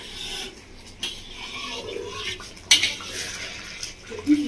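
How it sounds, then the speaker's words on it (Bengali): A lid lifted off a cooking pot of Bangladeshi village-style kalbos fish curry in spicy oil gravy, giving one sharp, close metallic clank midway through, surrounded by soft scraping and a steady low simmering hiss, with no voices. "ঢাকাটা খুলে রেখে দেবো"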